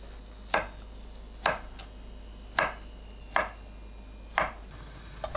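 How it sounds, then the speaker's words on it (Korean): A knife chops fish cakes into bite-size pieces on a cutting board, giving five sharp, evenly spaced cuts in a quiet kitchen. "어묵을 한입 크기로 썰어주세요."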